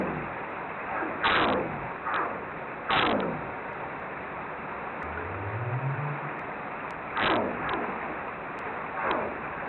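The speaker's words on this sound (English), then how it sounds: "We will identify right whales by two of their call types" Right whale gunshot calls in the Bering Sea: sharp broadband pops recur every second or two over a steady underwater hiss, with a brief low rising tone in between.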